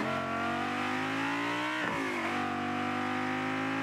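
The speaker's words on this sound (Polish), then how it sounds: "No ale w sumie dźwięk tego silnika jest całkiem standardowy." A car engine in Rocket League, the Whiplash car, revs loudly and continuously, pitch rising with a brief dip and shift partway through, a bright synthetic-sounding whine throughout.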